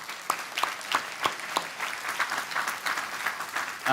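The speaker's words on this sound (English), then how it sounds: "just a final round of applause for all of our award winners" Audience applause for award winners at the Momentum24 keynote, steady clapping from a crowd filling the room with a few sharper individual claps standing out throughout.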